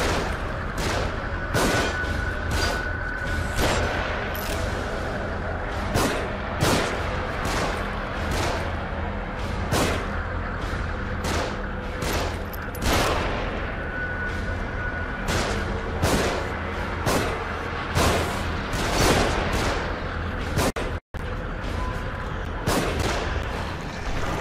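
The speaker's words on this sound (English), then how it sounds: "Shooting from above." Gunfire from above in The Evil Within, a long run of loud, sharp shots cracking out in an irregular rhythm that barely lets up, with no talking.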